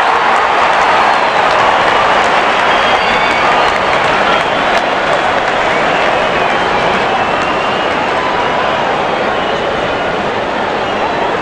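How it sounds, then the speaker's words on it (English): Dense, sustained applause and cheering from a full cricket stadium crowd at a West Indies versus Zimbabwe World Cup qualifier match, loud and continuous throughout as a broad roar. "Such a wonderful crowd in to watch their favorite players."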